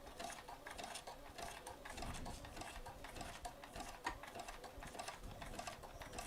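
A Bernina sewing machine stitches steadily at slow speed, a continuous rapid mechanical clatter close by and fairly quiet, with no talking.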